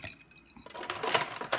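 Ice cubes dropped into a glass of iced coffee milk give a short run of bright clinks and rattles, close by, with a louder burst partway through and no voices.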